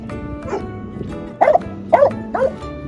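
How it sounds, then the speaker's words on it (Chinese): Dogs bark back and forth at each other, a few sharp barks bursting out in quick succession over a steady low background hum, fairly close and loud. "这就是狗狗的交流。"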